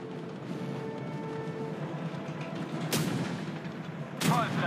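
Two sharp, loud tank cannon blasts from the video game Tank Company, one near the three-second mark and another near the end, each a sudden broadband crack over steady engine rumble and background battle ambience.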